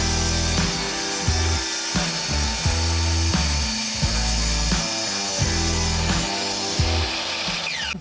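A power saw trims wooden rails during a home renovation, cutting in steady repeated strokes with a loud, close, continuous grinding buzz.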